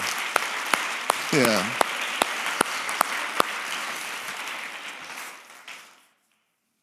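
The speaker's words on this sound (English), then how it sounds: "Give yourselves a round of applause." A healthcare conference audience gives a round of applause, dense clapping that builds and then fades away to silence, with sharp individual claps punctuating it and a short spoken interjection near the start.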